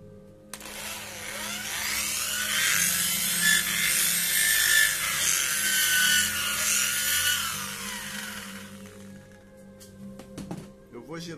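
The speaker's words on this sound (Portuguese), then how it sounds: "Girando a máquina para ele fazer um furo meio afunilado" A handheld rotary tool bores a funnel-shaped hole into a bamboo incense holder with a high whining, grinding drone. It holds steady for about ten seconds up close, then spins down to a few light knocks.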